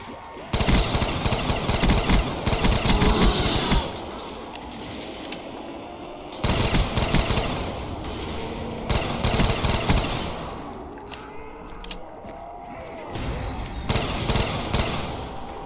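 Rapid automatic gunfire from an orange gun in a Call of Duty Zombies Die Rise mod with a platformer character pack, loud bursts in several stretches separated by quieter game ambience.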